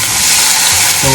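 Pork sizzles loudly in a frying pan for a Japanese-style pork and bell pepper stir-fry, a dense continuous hiss up close with a low clatter near the end.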